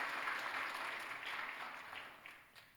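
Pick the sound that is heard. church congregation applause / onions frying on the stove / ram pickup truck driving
church congregation applause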